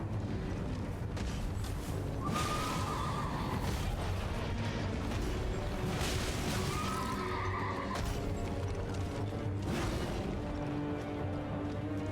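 In the video game Elden Ring, a horse whinnies twice, each a rising, wavering neigh standing out clearly over a constant low rumble of game ambience and some clip-clop of hooves.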